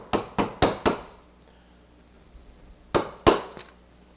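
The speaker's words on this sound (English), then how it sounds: "You almost don't have to hit it with the mallet" A mallet strikes a chisel while a sawhorse is made from reclaimed stair treads, giving four quick sharp knocks, then a quiet pause and three more hits, all close and loud with no talking.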